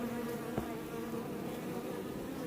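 Honeybees buzzing in a steady dense drone at the entrance of a hive packed with bees, continuous and close with no pauses.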